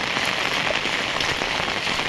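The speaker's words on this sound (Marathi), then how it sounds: "काल आणि आज भरपूर पाऊस झाला गावाला आणि आता ही लोक सगळी बघा पावसाचं बघा पूर्ण पाणी भरून गेलं आहे." Heavy monsoon rain falls on a village in Konkan, a dense, even roar of drops hitting surfaces, loud and close for the whole stretch with no speech.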